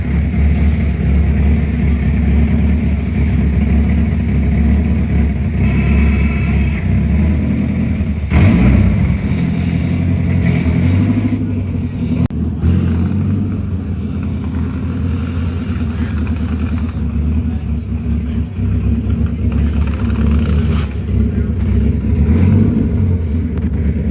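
A Nissan S14 drift car runs loud and close, a steady deep engine rumble with slight swells as it rolls off a lift under its own power for the first time in nearly two years.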